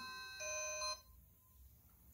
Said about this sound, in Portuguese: O toque de chamada você pode personalizar